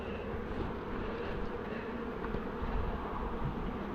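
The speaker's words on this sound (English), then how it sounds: "Well, that's a little bee, isn't it?" A honeybee buzzes close by while a beekeeper works a transferred swarm, a continuous droning hum with slight wavering, fairly quiet and alone with no talking.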